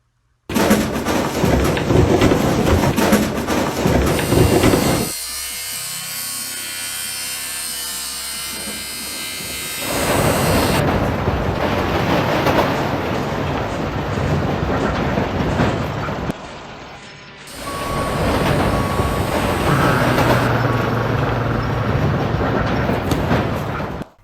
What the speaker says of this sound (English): I love mining sounds.